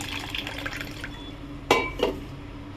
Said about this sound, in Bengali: এবারে আমি এই চালটাকে ভালো করে ধুয়ে কিছুক্ষণ ভিজিয়ে রাখবো